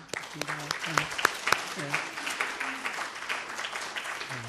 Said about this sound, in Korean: 우리 잠깐 두 분을 위해서 환영 박수